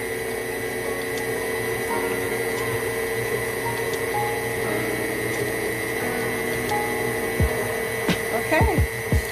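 An electric mixer runs at a low setting through vegan cookie dough, giving a steady, close motor whir with faint tonal hum for the whole stretch and a few light bumps near the end.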